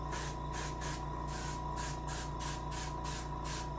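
Short, rhythmic bursts of aerosol base coat sealer spray a painted brown bullhead catfish taxidermy mount, repeating quickly over a steady background hum without speech.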